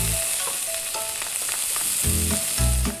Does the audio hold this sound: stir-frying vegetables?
yes